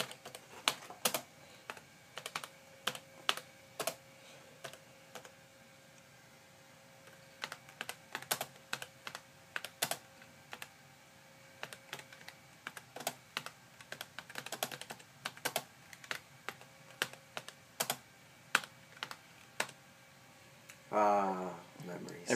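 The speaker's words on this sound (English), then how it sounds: "So let's test something out with the keyboard." Someone types on an IBM PS/Note 425 laptop keyboard with irregular, sharp key clicks over about twenty seconds, close and fairly quiet. A voice briefly speaks at the end.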